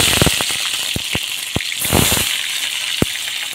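Chopped tomato hits hot oil in a pan along with bay leaf and nigella seeds, a loud steady sizzle with sharp popping crackles scattered through it.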